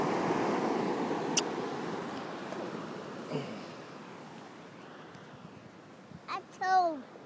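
Ocean waves wash onto a beach in a steady, broad hiss of surf with some wind noise, fading slightly over time, as a child and an adult speak briefly near the end.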